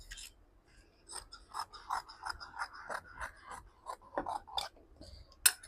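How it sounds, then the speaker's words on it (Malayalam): Scissors cutting fabric for the pocket of a diaper bag, giving a run of close, crisp snipping and rasping strokes in steady rhythm, alone with no talk. "അപ്പോൾ നമ്മൾ പോക്കറ്റിന് വേണ്ടിയിട്ട് കട്ട് ചെയ്തു"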